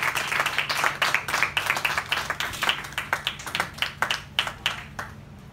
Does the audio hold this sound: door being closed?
no